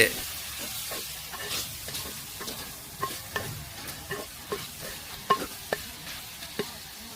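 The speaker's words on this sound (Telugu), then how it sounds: "శుద్ధంగా కడుక్కున్న రొయ్యల్ని ఆ మట్టి దాకలో వేసేసి గరిటితో బాగా కలిపేసి" A ladle stirs washed prawns in a clay pot over a wood fire, producing repeated scraping and clinking strokes in an irregular rhythm over a soft background sizzle.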